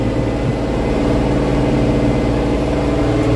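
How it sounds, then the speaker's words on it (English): A Case IH Magnum tractor strip-tilling a corn-on-corn field runs in 9th or 10th gear, its engine giving a steady, loud, close drone with an even low hum and no break throughout. "So I'm running 9th and 10th gear on this tractor and a Magnum."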